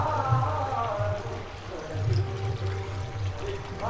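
Water pouring and trickling from a spring beside a temple pond at a Vitthal shrine in Nadhavade, Konkan, a steady nearby splashing flow with low murmuring sounds mixed in.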